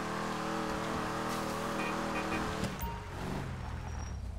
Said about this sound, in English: This car sounds so big.